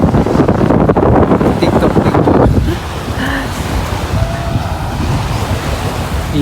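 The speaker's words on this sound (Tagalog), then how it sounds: "Nandito na ako sa dagat mga par." Loud surf washes in at a white-sand beach resort in San Juan, Batangas, with heavy wind buffeting the microphone for the first few seconds before it settles to a steadier, softer roar of waves.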